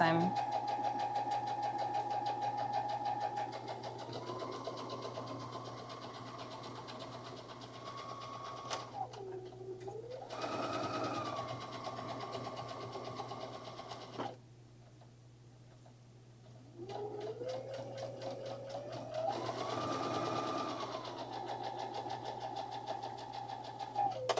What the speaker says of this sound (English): I'm just going along, just using a straight stitch.